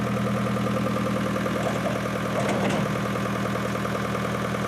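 Grandfather's tractor, nicknamed the Cadillac and used for hauling boulders, runs steadily with a loud, continuous engine rumble and knocking throb that stays close throughout without voices.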